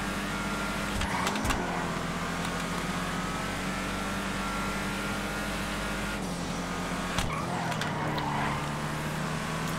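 Muscle car engine on a tight racetrack during a fast hot lap in a racing video game, a steady loud drone with brief dips during gear changes around the lap.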